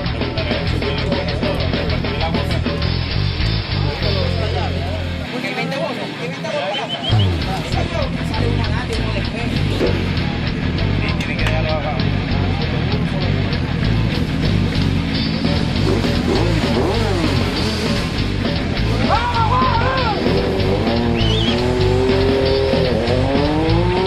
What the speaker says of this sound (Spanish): Al final me le deja el sonido de la moto porque eso es muy chévere escucharlas.